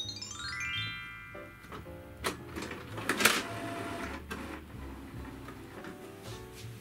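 An HP OfficeJet Pro 8720 all-in-one inkjet printer runs on its own, with whirring motor sweeps, mechanical clicks and a brief sharp rattle near the middle, close up and moderately loud.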